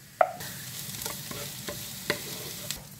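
Onions for boeuf bourguignon fry in a pan and are stirred, producing a steady sizzle broken by a few sharp scraping knocks of the spoon, close up and with no voices.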